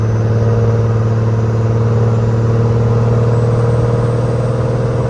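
A first-generation Cummins diesel pickup fitted with an exhaust stack accelerates, its engine droning steadily and loudly close by, with no talk over it.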